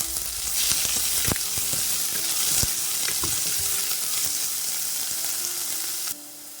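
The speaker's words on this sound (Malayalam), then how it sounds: "ഈ സവാള നന്നായിട്ടൊന്ന് വഴറ്റിയെടുക്കാം." Onion with green chili and salt sautéing in a pan for a Kerala-style runner bean stir fry gives a loud, constant close sizzle with scattered stirring clicks, dropping quieter near the end.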